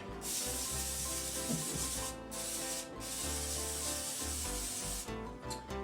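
Cooking spray hisses steadily onto a foil-lined cookie sheet for several seconds, broken by short pauses, with a broad rushing texture close to the microphone.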